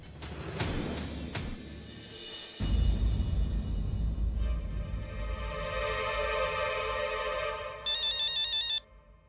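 A phone ringtone plays alone, a bright melodic electronic tune that follows some short knocks and swells steadily before cutting off abruptly.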